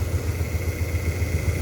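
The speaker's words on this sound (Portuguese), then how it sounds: "Ó, o motor tá rodando" A three-phase electric motor wired to a single-phase supply through a permanent capacitor runs steadily up close, with a continuous low hum and no talk over it.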